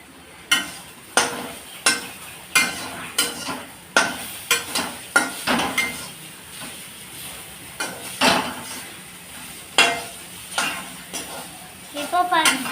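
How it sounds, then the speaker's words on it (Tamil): Okra curry being sautéed in a pan, with a series of sharp, rhythmic scrapes and knocks of the spatula against the metal over a soft sizzle, up close, with voice heard. "இப்போ பாருங்க, நல்லா வதக்கியாச்சு."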